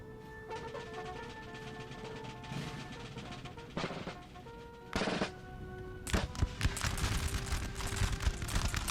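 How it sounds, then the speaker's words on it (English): Musket volleys crackle in a Napoleonic battle of the Napoleon Total War video game, Prussian campaign, with scattered distant shots building into denser, louder bursts of massed gunfire toward the end. "they keep firing from the concealed bloody positions"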